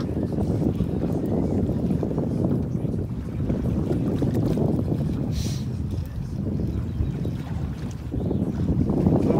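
Fishing boat near Sark pounding over rough water, a continuous loud low engine rumble with wind buffeting the microphone and choppy hull thumps, no talk heard.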